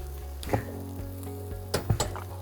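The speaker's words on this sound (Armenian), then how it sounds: "տապակում ենք մինչև լինի ոսկե գույն" Lung pieces frying in a pan for Armenian tzhvzhik, heard as a steady loud sizzle broken by several sharper bursts as the food is stirred; no voices.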